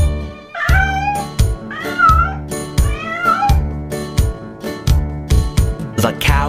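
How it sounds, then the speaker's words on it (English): Repeated meows in a children's farm animal song ride over a bouncy music track with steady drum hits, loud and close throughout. "The cat on the farm goes meow, meow, meow."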